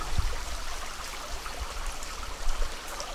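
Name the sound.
water flowing in a creek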